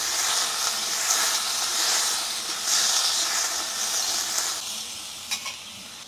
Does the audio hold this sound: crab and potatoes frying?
yes